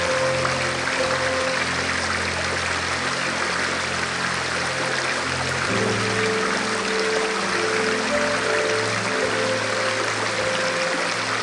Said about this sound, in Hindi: ये जो पानी का शोर आ रहा है ना, बहुत ही सूदिंग